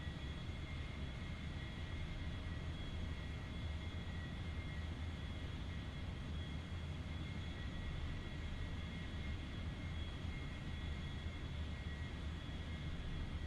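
A light aircraft's engine drones steadily in flight, a constant broadband roar heard close from inside the cabin with no talking.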